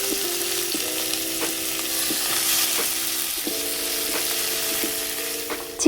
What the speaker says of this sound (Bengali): চিকেনটাকে ঘিয়ের মধ্যে ভালো করে নাড়িয়ে চাড়িয়ে